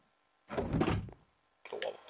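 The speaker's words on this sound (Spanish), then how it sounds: "y se escucha puerta" A Minecraft door opens with a dull wooden thunk, followed about a second later by a second, quieter knock. The sounds are close and brief, separated by silence.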